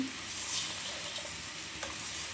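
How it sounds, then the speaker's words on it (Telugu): Okra and soya chunks frying together in a pan, giving a soft, faint, even sizzle with light stirring scrapes and an occasional tap of the utensil. "రెండింటిని మిక్స్ చేసుకొని కాసేపు వాటిని ఫ్రై అవ్వనివ్వాలి"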